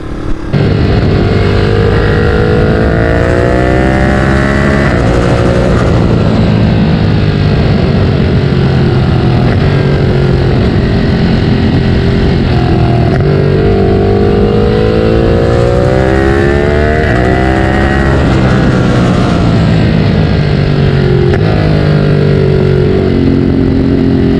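A Ducati Monster 937 fitted with a Termignoni exhaust revs loudly and close by in repeated rising and falling sweeps, the engine note climbing and dropping several times with no talking.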